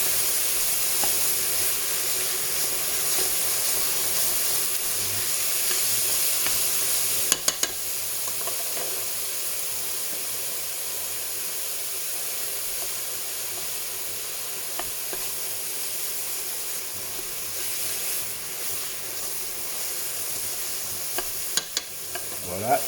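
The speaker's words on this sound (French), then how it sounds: "on rajoute une petite goutte d'huile pour pas que ça colore, mais vraiment que l'oignon et l'ail suent" Onion and garlic sweating in a little oil in a pan for ratatouille, a steady soft sizzle and hiss held close and constant, with occasional faint clicks of utensils against the pan.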